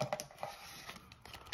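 A deck of playing cards is shuffled after a hand of Euchre, giving soft rapid flicks and patters at close range, quiet and uneven, with no voices over them.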